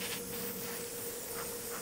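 An airbrush sprays paint onto a model airplane, a continuous soft hiss that keeps an even level and stays close and quiet for the full short span.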